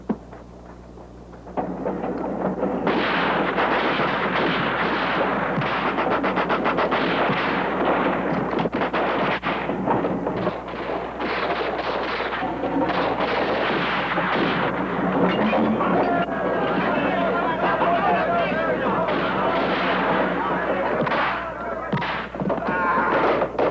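Sustained gunfire rattles through a shootout in a 1972 Pancho Villa western, dense and loud rapid bursts of shots and blasts that run almost continuously for over twenty seconds after a quieter opening.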